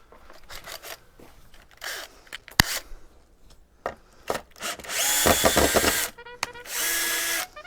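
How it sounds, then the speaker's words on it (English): Power drill running in short bursts amid building a large wooden outdoor playset, with clicks and knocks between and a longer whirring stretch near the end, fairly close. "Drill."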